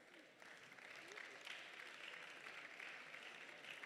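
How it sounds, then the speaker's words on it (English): An audience at the Africa Sings Festival in Asaba applauds a South African performer, a soft, distant wash of clapping that swells after a brief lull and carries on steadily, with faint voices beneath. "Please clap for him."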